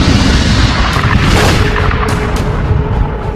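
A sustained, loud explosion effect representing a supernova from a red giant star, with dense low rumble and booming surges throughout, no voices.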